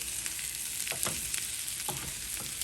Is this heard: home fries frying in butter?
yes